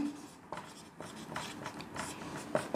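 Handwriting of math equations: soft scratching strokes in short, spaced bursts, close and quiet, with no voices.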